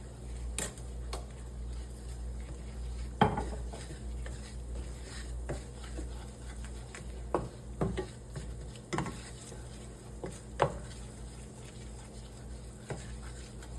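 Food frying in oil in a pan, a low steady sizzle with scattered soft scrapes and clinks of a utensil stirring, fairly quiet and close, no voices.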